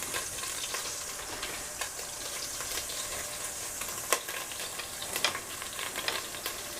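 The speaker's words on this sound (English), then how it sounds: "Popping and cracking." Hot oil in a pan, heating back up between batches of beef for Tex-Mex chili with chorizo, hisses in a continuous sizzle broken by sharp pops and crackles, a few louder spits standing out, with no talking.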